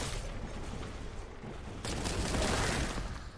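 Bolter fire in a Warhammer 40k video game, a steady dense roar of rapid gunfire and impacts that swells louder midway and stays heavy to the end.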